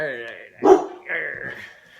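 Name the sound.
dog barking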